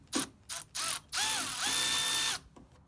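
Milwaukee ratchet being turned while working on an E30 BMW with an M20B25 turbo engine: several quick ratcheting bursts, then a longer steady run of fast clicking, close and loud.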